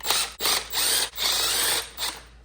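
Phillips or JIS screws being removed from the filter cover of a Honda VTX motorcycle, several close, buzzing ratcheting bursts separated by brief pauses.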